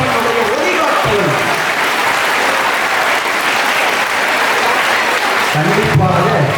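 Audience clapping at a school celebration of Kamarajar's birthday at Don Bosco, a loud, steady burst of applause filling the whole span, with a voice briefly audible near the end.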